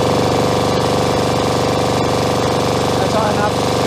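A Jabiru aircraft engine held at 3,000 RPM roars loud and steady close by, a continuous dense drone with faint voices partly buried beneath it.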